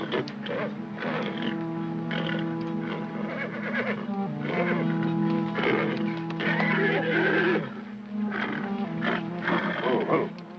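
A wild cat snarls and roars close to horses, which whinny and neigh in a dense, continuous wildlife din that lasts throughout.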